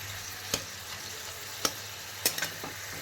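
Ash gourd frying in oil with fish head, a soft steady sizzle punctuated by a few sharp spatula clacks as the pan is stirred, close and fairly quiet.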